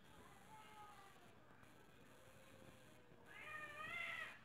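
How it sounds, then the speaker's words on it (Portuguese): Cats squabbling and meowing in a domestic setting, a low yowl early on building to a louder, higher screeching cry near the end over steady background noise. "Todo dia essa briga desse gato"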